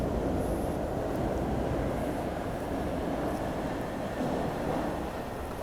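A passing train fills the scene at 5:05 a.m., a loud, steady rumble of wheels and carriages that holds level throughout with no voices over it.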